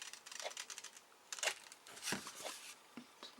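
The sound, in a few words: scissors rounding corner of paper folder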